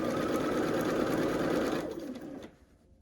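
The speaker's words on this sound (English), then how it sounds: "You could keep sewing blocks together like this" A sewing machine stitches red, white and blue quilt blocks together in a loud, close, steady run that slows and stops after about two and a half seconds.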